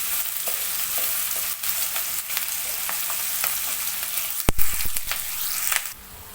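Thinly sliced onions and a sprig of curry leaves frying lightly in oil for a chicken roast, giving a steady close sizzle with occasional stirring clatter and a sharp pop midway.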